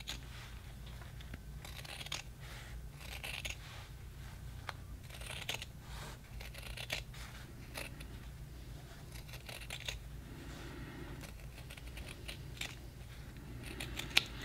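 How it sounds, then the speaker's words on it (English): Scissors trimming a fabric seam allowance on a TNG-style Star Trek collar give faint, repeated crisp snips and clicks in a quiet room, spread irregularly through the stretch. "now what you want to do next is trim that seam allowance down to about 1/4 inch all the way around"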